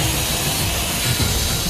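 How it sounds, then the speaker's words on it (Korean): A heavy handheld electric saw carves curved timber for a traditional Korean hanok, giving a steady, close, loud grinding roar that holds without a break and has no talking over it. "강한 진동을 버티며 수 킬로그램에 달하는 전기톱으로 곡선을 살려 깎아낸다는 것은"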